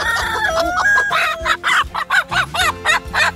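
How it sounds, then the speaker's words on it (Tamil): Native country chickens cluck close by in a rapid, rhythmic series of clucks, with a rooster-like crowing call mixed in. "மொத்தம் எத்தனை கோழிலாம் இருக்கு?"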